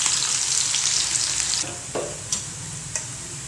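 Small onions, dried red chillies and curry leaves sautéing in a pan for a Kerala chickpea curry: steady close sizzle that eases after a moment, with a few sharp scrapes and taps of a spoon stirring, no talk.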